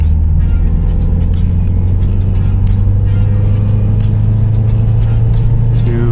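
A Mazdaspeed 3 with a new intake accelerates slowly from low revs, a deep steady engine drone close by that holds loud and even with a faint rising tone near the end.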